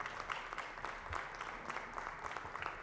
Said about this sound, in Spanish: os pido un muy fuerte aplauso